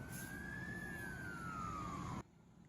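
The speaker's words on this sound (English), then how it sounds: "Firefighters rushing down the road, responding to an emergency." A fire engine siren wailing with a single slowly falling tone over traffic rumble, cut off abruptly near the end.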